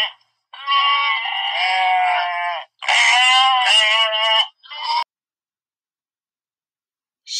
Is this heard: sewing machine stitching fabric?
no